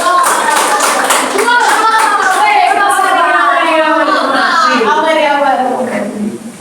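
Students in a classroom clap loudly and continuously after a group presentation, the steady applause mixing with children's voices talking and calling out over it.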